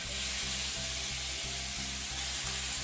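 Steak pieces sizzling in browned butter in a hot pan, a loud, steady frying hiss that runs unbroken, with a faint rhythmic low thump underneath.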